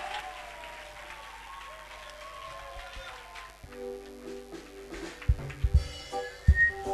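A church congregation at a revival service cheers and applauds for Jesus Christ, with clapping and whistles rising over sung or chanted voices, the crowd noise building into louder bursts toward the end.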